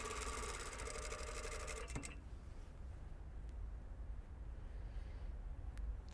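A sewing machine stitches a shirt collar seam in a rapid, even mechanical whir for about two seconds, then stops, leaving quiet room tone with a faint click near the end.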